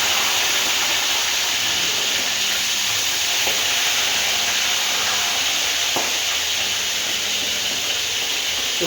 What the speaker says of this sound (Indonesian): Ini saya goreng dulu ikan untuk anak saya